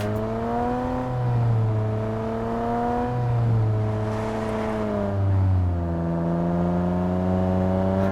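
A Bentley-skinned jeep in PUBG Mobile drives with a loud, steady engine drone whose pitch rises and dips through several gear-like swells, close and continuous with no voices over it.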